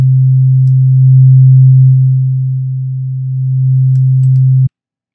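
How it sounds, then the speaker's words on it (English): A pure low sine test tone holds steady and loud for about four and a half seconds, swelling and dipping gently in level before stopping abruptly into silence. "So here we have a sine wave."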